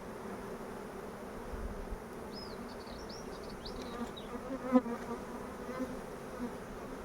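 Honey bees buzz steadily in an opened hive, a dense close hum that runs throughout with no talk.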